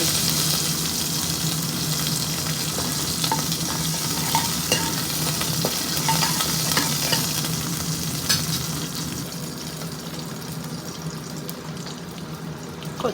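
A pan sizzles steadily with frying ingredients for a cucumber pulusu curry while a utensil stirs and scrapes through them, a continuous close hiss with occasional clicks and taps.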